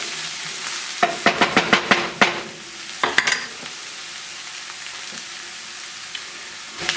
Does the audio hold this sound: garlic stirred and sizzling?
yes